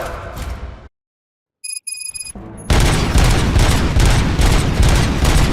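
Gunfire in the Xbox game RoboCop Rogue City: after a loud opening, a moment of silence and a few sharp bursts, then a dense, sustained volley of loud shots.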